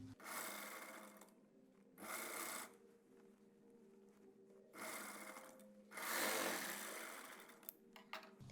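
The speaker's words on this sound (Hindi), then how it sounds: "और अब इस तरह से घुमा के हम यहाँ से सिलाई लगाएंगे।" A sewing machine sews the lining near the zipper of a ready-made lehenga. It runs in three or four close bursts of whirring stitching, separated by short quiet pauses.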